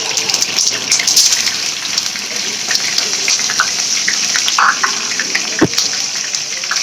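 Cumin seeds crackle and sizzle steadily in hot oil in a home kitchen pan, a dense hiss running throughout with scattered sharper pops, fairly loud and close.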